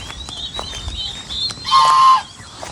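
Young turkey poults calling on a small backyard farm, a few thin, high peeping cries and one longer sustained call, fairly close and clear with no talking.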